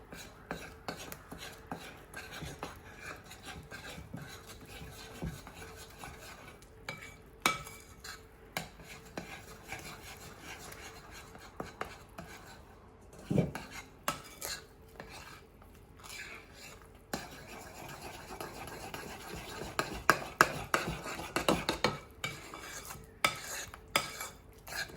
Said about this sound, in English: Now we take our wet mix and add it to the dry mix.